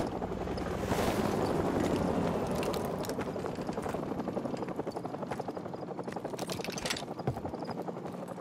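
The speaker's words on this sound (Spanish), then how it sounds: "Soap, coge un Stinger y cárgate ese helicóptero" A helicopter in the video game Call of Duty Modern Warfare Remastered roars loudly and continuously, its heavy rotor thrum and wind-like rush filling the whole stretch with no voices.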